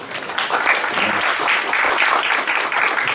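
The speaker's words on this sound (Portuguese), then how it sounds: "uma salva de palmas a todos aqui, presentes que vieram." A conference audience claps steadily and loudly throughout, a dense wash of applause with no talking.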